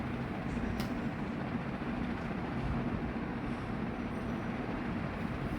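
Inside the Changi Airport Skytrain running between terminals, a steady low rumble and hum of the moving car stays quiet and even, with no voices over it.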